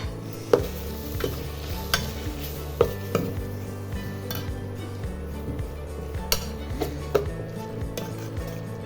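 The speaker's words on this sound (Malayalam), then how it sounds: "ഇതും കൂടി ഒന്ന് നന്നായി ഇളക്കി കൊടുക്കാം." A spoon stirs and scrapes roasted coconut masala in a metal pan, with repeated sharp clinks and knocks at an uneven rhythm over a low sizzle and hum, close and fairly loud.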